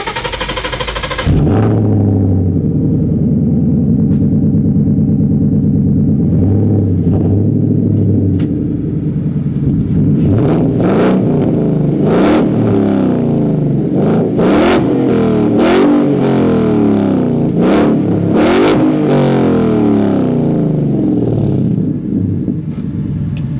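A Ford Mustang GT500 Eleanor engine roars close and loud, a deep steady rumble that builds into repeated hard revs and crackling pops over about twenty seconds, with no talking.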